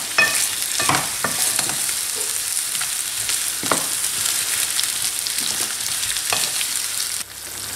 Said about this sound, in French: en les mélangeant de temps à autre.